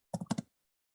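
A short burst of four quick computer keyboard keystrokes, close and fairly quiet, followed by silence.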